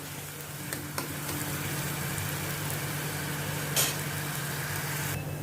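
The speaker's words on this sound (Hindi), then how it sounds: "इसको अभी थोड़ा गुलाबी कलर आने तक इसको मैं प्याज को मैं भूनूंगी" Chopped onion frying in a pan for chole, a steady even sizzle with a faint background hum and a few light clinks of stirring, continuous throughout without talk.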